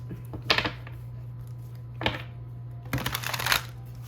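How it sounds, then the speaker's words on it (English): Tarot cards being shuffled in three quick riffling bursts, close to the mic, with a steady low hum underneath. "I'm so sorry if the shuffle is like super loud."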